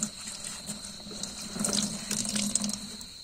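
Water runs steadily from a tap while a small portion is collected for feeding daphnia to betta fish, a continuous close splashing hiss that builds louder toward the end, with no voices.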